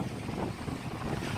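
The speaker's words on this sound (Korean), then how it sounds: "바람 소리" Wind gusting over the open sea off Baeksom islet in Goseong, a steady rushing roar with a low rumbling buffet, close and fairly loud, alone without talk.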